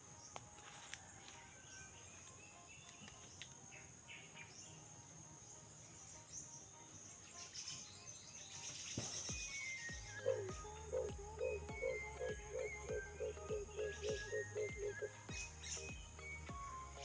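A bird sings a repeated run of short, rhythmic chirping notes over a steady hiss of insects, faint and at moderate distance.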